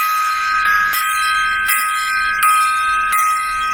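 A gong struck as a salute rings with several evenly spaced metallic strikes, each landing over a sustained, shimmering tone that carries loudly.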